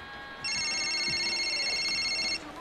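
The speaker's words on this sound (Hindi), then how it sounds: "देखती हूँ किसका फोन है।" An electronic phone ringtone plays for about two seconds, a bright warbling tone that is close and clear, then stops.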